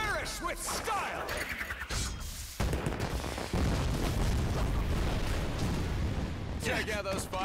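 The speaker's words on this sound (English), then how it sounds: "Check out those fireworks!" Booming bursts and crackling blasts of fireworks in the video game Demon Slayer -Kimetsu no Yaiba- The Hinokami Chronicles, over busy sound effects, with voices speaking at the start and end.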